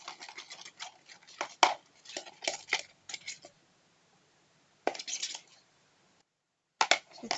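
A spoon stirs a slime mixture of water and shampoo in a small container, giving bursts of sharp clicking and scraping taps close up, separated by silent pauses.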